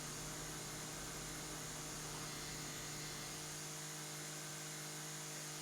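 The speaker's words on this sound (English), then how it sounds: "we're going to have to angle the whippersnipper into the hedge in order to catch all of the grass that's in there" Whippersnipper trimming grass along a hedge in a house flipping video game, a continuous steady buzzing motor drone with broadband hiss, constant and unbroken with no talk.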